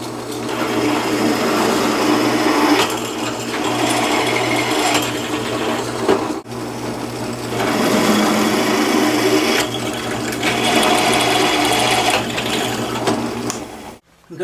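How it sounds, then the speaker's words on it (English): A corded drill fitted with an extra handle runs at about 870 RPM, pushing a 5/16 inch bit through oiled 1/8 inch steel in a loud, steady grinding whir, pausing briefly midway and stopping near the end. "I'm using a corded drill with an extra handle on it"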